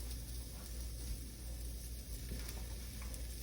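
Unblanched green beans fry in a hot pan, giving a steady, close sizzle that runs unbroken throughout with no voices.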